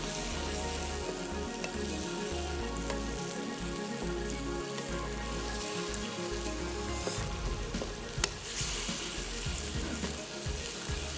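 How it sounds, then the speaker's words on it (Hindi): Chicken liver and chilies stir-fry loudly on a high flame in a spicy kaleji khara masala, with a steady close sizzle and occasional scraping of the stirring spoon throughout. "अच्छे तरीके से इसको हाई फ्लेम पे मिक्स करें ताकि मिर्चों का जो कच्चापन है वो भी थोड़ा सा एडजस्ट हो जाए"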